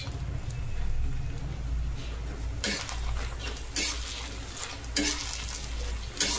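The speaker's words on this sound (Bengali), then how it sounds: "ভালো করে ভেজে নেব রসুনটা মাছের মধ্যে। তারপরে দিয়ে দেবো গোটা পেঁয়াজ" Garlic and whole onions fry in a pot with fish heads, a steady close sizzle with a low hum beneath and several sharp bursts of utensil scraping and clatter as the pan is stirred.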